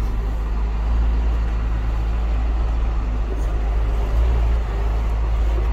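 A 2022 John Deere 6140M cab tractor being driven at an auction gives a heavy, steady diesel drone with a deep low rumble, loud and continuous from inside the cab.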